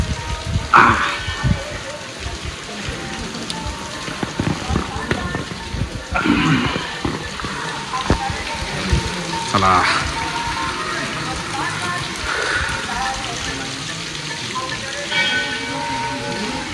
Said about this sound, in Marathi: कंटिन्यू पाऊस चालू आहे कंटिन्यू